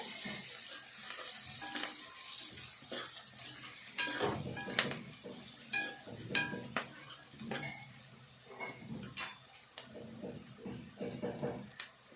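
Onions with turmeric frying in a pan give a low sizzle under repeated spoon scrapes and clanks against the pan, with faint background voices at times.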